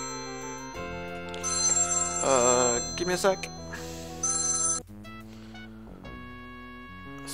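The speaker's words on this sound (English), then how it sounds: "I just got a little phone call" A telephone rings with bright, repeating electronic trills during an incoming call, loud and close, before a voice briefly speaks over it and the ringing stops.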